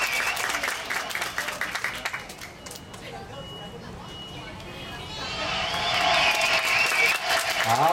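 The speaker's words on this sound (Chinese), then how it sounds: "掌声！" An audience applauds and cheers at a weekend dance troupe performance outside Ruifang train station, a steady wash of clapping and crowd noise that grows louder and fuller toward the end.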